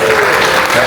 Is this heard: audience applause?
yes